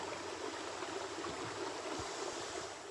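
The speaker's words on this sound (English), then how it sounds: "get a better shot of the water running at the creek" Creek water running in a nature preserve, a faint continuous rushing hiss with occasional low gurgles, steady and without voices.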